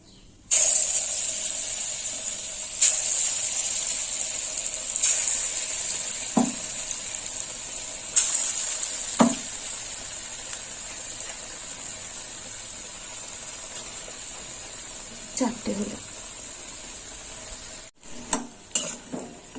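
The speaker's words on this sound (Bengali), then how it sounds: "এবার বাকি বড়াগুলো এই তেলে ভেজে নেবো" Lentil fritters fry in a pan of hot oil, giving a steady bright sizzle and hiss throughout, with a few brief clinks and scrapes of stirring. No voices are heard.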